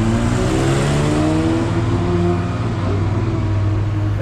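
A car drives along the Monaco street circuit in early morning, a loud, steady engine drone close by with a smooth continuous hum and no voices.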